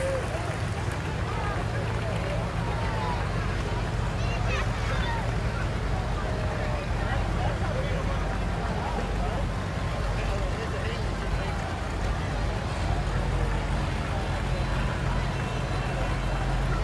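Farm tractors rumble steadily in a Fourth of July parade, a continuous loud engine drone with wind noise while people talk over it.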